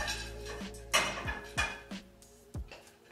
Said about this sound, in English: we gotta put this in a bigger pan